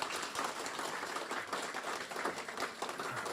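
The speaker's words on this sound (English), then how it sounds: "Can I get another huge round of applause," An audience at a Māori annual hui claps in a continuous, even round of applause, heard at a distance and fairly soft, with no break throughout.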